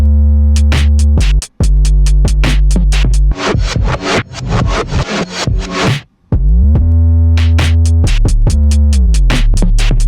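Combined drum beat layering lo-fi reversed drums with upfront trap drums and a booming 808, playing loud and dense with steady hits over a sustained low bass, dropping out briefly twice before resuming.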